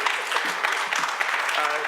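Audience applause at a Hamilton town hall on income security reform fills the room as a steady, dense wash of clapping, with a voice faintly audible underneath.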